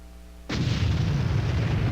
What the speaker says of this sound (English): About the size of a helicopter explosion.